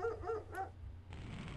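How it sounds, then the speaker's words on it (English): In the Full Throttle video game, a dog barks three times in quick succession, moderately close and clear, followed by a brief hiss of background noise. "I heard a dog there."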